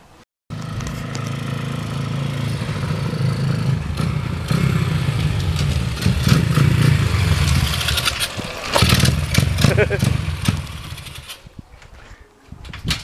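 An Apollo RFZ150 small motocross bike, its idle jet just swapped from 25 to 15 during carburetor tuning, fires up and runs loud and close, a raspy two-stroke-style idle rising into revs before dropping back and cutting off.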